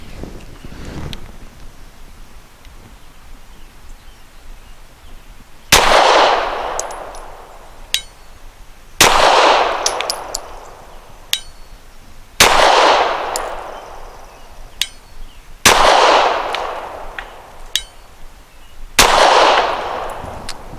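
A Glock 34 with a long barrel fires PPU subsonic 158 grain rounds outdoors, giving five sharp, loud single shots spaced a few seconds apart, each with a ringing decay and faint metallic pings after, and no voices.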